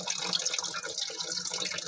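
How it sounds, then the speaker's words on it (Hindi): Water runs and trickles steadily as it fills a concealed toilet flush tank during a DIY repair. The flow is faint but continuous, with light splashing throughout. "और पानी भी अंदर भर रहा है।"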